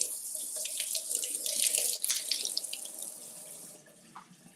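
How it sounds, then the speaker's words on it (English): Tap water runs steadily into a kitchen sink while something is rinsed under it, a continuous splashing hiss with shifting spatter that eases off toward the end. "Let's give these a little rinse."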